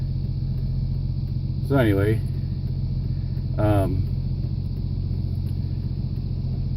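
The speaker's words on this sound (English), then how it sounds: "look at all this traffic coming in" Road traffic passing in both directions makes a continuous low rumble of engines and tires behind a voice heard from inside a vehicle. Two brief bursts of someone speaking stand above the steady drone.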